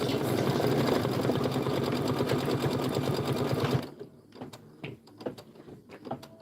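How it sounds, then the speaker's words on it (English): A sewing machine stitching a quilt block runs in a rapid, steady mechanical chatter for about four seconds, then stops, leaving scattered soft clicks and handling sounds. "I want you guys to just keep stitching."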